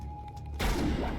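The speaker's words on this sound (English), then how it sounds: "How are you shooting me?" Gunfire in Mass Effect Legendary Edition: after a quiet moment with a faint steady tone, a sudden loud burst of shots erupts and carries on to the end.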